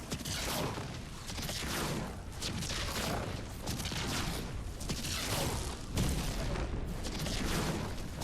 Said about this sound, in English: The never-ending barrage here is insane.